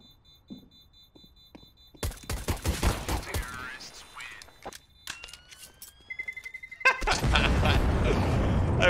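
Gunfire in the tactical shooter CS:GO, a burst of sharp shots and rapid volleys from about two seconds on, building to a loud dense barrage near the end, with brief voices mixed in.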